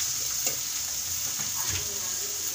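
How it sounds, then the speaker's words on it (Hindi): Tinda (round gourd) is stirred in a cooking pan over a continuous sizzling hiss, with a few soft scrapes and knocks of the spoon near the mic. "इसे थोड़ा सा हिलाएंगे"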